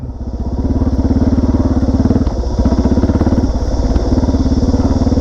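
A dirt bike with new chain and sprockets rides a sandy dirt track, its engine loud and close with a steady, rapid pulsing drone throughout.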